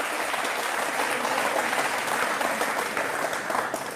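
An audience at a political speech gives sustained applause, a dense, steady wash of many hands clapping at once that holds evenly throughout with no speech on top.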